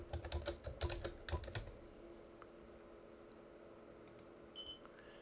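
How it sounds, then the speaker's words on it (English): A password typed on a computer keyboard, a quick close burst of key clicks in the first two seconds, then near silence with a couple of faint taps. "type in my password"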